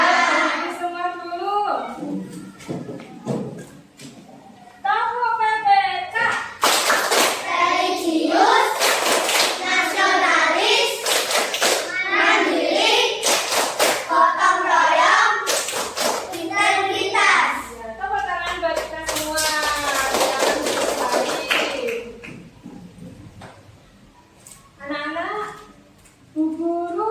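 Fourth-grade children in a classroom perform the Tepuk PPK clapping routine, with bursts of loud rhythmic group claps mixed with chanting young voices and a teacher speaking.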